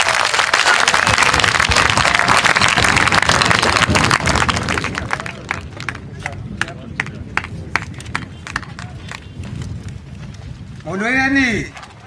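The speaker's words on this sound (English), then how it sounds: "You've got to clap until he gets to the stage" A crowd at a Freedom Day rally claps as a poet walks to the stage, dense applause filling the first few seconds, then thinning to scattered claps, with a voice breaking in near the end.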